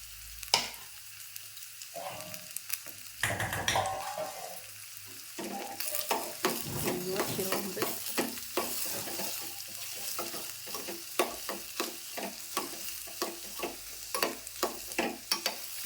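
Chopped onions and green chillies frying in oil in a pan for masala idli, a steady sizzle under repeated scraping and clinking stirs that grow busier and more rhythmic as it goes on.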